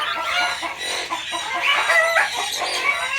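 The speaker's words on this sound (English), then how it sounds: "Something's upset the chickens." Several chickens squawk and cluck agitatedly and continuously, close by and fairly loud.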